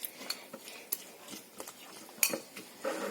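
Cutlery mixes Russian salad in a bowl, giving scattered light clinks and soft scrapes at an irregular pace, close by and fairly quiet.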